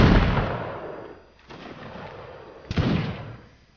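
Musket volleys crack out in a Napoleonic Wars line battle in Mount and Blade, a loud rolling burst at the start fading, then a second sharp volley near the end, with no talk.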